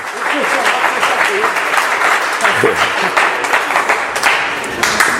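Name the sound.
congregation applauding loudly for the Lord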